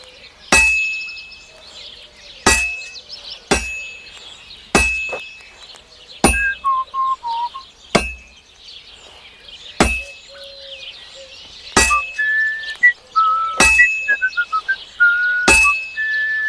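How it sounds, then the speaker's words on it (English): A blacksmith's hammer strikes a sword workpiece on an anvil in Kingdom Come Deliverance II, eleven sharp ringing clangs at irregular intervals with metallic tones lingering between blows. "You've got to hammer the workpiece evenly."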